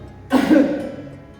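A single sharp, close cough that trails off into a breathy rasp.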